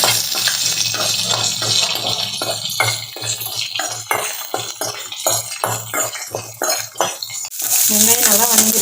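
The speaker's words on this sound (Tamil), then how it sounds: "அது கூட வெட்டி வச்சுருக்க நம்ம ஒரு பெரிய வெங்காயத்தை சேர்த்துக்கலாங்க. நல்லா வணக்கி விட்டுக்கோங்க." A big chopped onion stirred with a spatula as it sautés in an oil-filled pan for mint chutney, steady close sizzle broken by repeated metallic scraping strokes, no talk.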